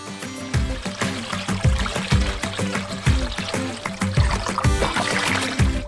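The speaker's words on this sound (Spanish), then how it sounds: "Llenamos más agua para cubrir toda la carne." Water pours steadily into a container of meat pieces sitting in marinade, a continuous splashing trickle with repeated glugging surges and bumps over several seconds.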